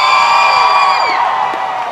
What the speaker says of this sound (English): anti-racist crowd yelling our lungs out on the streets of Melbourne